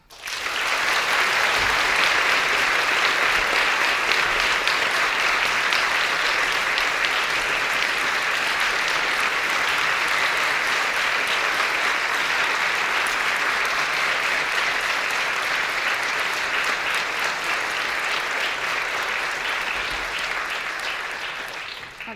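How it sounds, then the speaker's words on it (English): An audience at the Stockholm School of Economics welcomes the 2019 Nobel laureates in Economic Sciences to the stage with loud, sustained applause from a large crowd that lasts about twenty seconds and tapers slightly at the end. "Esther, Abhijit, and Michael, up to the stage with a warm applause."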